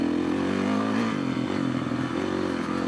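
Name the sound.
off-road motorcycle riding a trail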